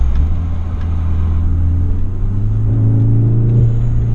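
A 500 HP VW Golf 7R on the road, its engine and exhaust giving a steady, loud low drone that climbs gradually in pitch as the car accelerates, with no talk over it.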